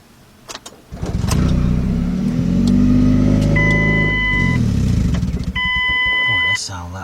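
A 2005 Ford Escape engine cranks and catches near the mic, idles roughly for several seconds, then stumbles and dies out; warning chimes sound during the run and a voice is briefly heard.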